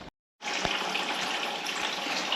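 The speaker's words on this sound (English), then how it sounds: "All right, guys, we're draining from like 4 different places, but we're draining." Coolant draining out of several points on an old Ford's cooling system, a steady broadband gush of liquid pouring after a brief silence, close and continuous with a few soft splashes.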